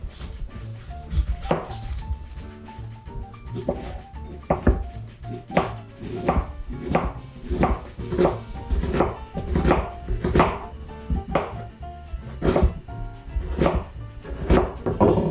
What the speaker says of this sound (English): let's slice up this onion